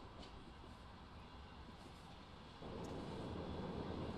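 A class 155 locomotive passes in the train simulator Train Sim World 4 on the Salzburg–Rosenheim line, heard as a steady broadband rumble that swells louder partway through and keeps going.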